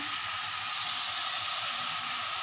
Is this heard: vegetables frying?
yes